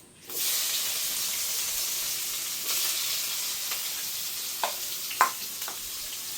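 Chopped onion drops into a little hot mustard oil with bay leaves while cooking chicken and pulao. A sudden sizzle starts and holds as a steady, close hiss, with a few faint clinks near the end.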